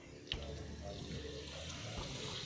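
Water pours steadily into a pot of sago for cooking Samoan koko esi, a continuous soft splashing stream with a brief clunk near the start.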